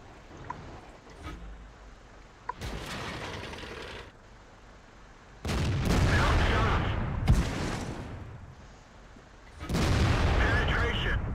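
Tank cannon fire from a German PZ V Panther in World of Tanks, a few loud booming shots spaced seconds apart, each followed by a rumbling, mechanical tail of reload clatter.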